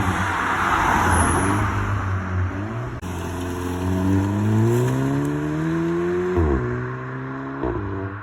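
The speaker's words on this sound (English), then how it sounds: "I will actually leave a clip in right now of what the res delete sounds like." A VW Polo GTI 6C with its exhaust resonator removed drones steadily up close, rising and falling in pitch as the engine revs and shifts, with a smooth, loud tone and no voices.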